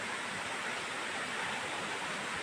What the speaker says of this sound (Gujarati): તમને અવાજ સંભળાશે નદીનો